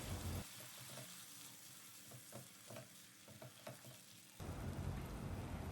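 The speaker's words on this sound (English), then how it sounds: "We'll stir this for a few seconds." Tomato puree with fried onion, ginger and garlic is stirred in a pan, with a steady close sizzle broken by a few scraping stirs, and a louder hiss of frying framing it at the start and end.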